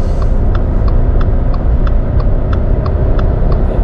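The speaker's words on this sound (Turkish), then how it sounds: "Dilovası'ndaki rampadayız. Araba rahat çıkıyor mu diye test ediyoruz şu anda." A Subaru XV engine pulls steadily up a ramp, its low droning hum constant inside the cabin while a faint regular ticking, like an indicator, repeats throughout.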